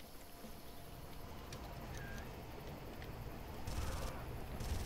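In the Far Cry video game, enemies arrive by boat on a river, and a faint, low engine rumble swells near the end over quiet background water and ambience.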